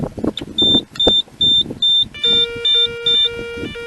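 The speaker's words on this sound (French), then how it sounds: "Et là, on entend bien qu'on a la sonnerie." A Nugelec type 2b alarm case sounds its alarm: sharp repeated electronic beeps at a steady pulse, then a louder layered multi-tone siren pattern, close and clear.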